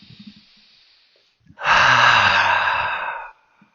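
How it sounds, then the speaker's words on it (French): A single deep, drawn-out breath taken close up during a guided heart meditation, loud and airy for well over a second, preceded by faint soft breathing and quiet small noises. "Prenez 3 grandes respirations."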